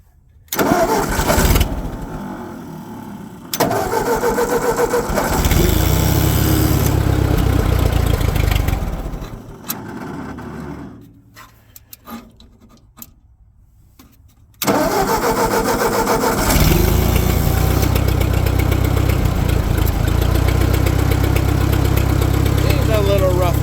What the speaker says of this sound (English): I'm going to fire up the old 8N just to warm her up and get the battery charged up a little bit